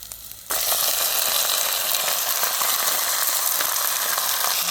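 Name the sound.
ingredients sautéing in a pan over a wood fire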